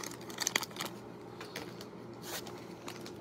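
Football trading cards being shuffled by hand from a sports card break, giving quiet papery riffles and flicks with a few sharper snaps early on, close and soft against a low background hum.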